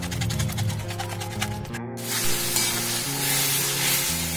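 Spice paste with spoonfuls of sour yogurt sautéing in oil over a low flame gives a close, bright sizzle that briefly cuts out and then resumes, along with a steady low hum. No voices are heard.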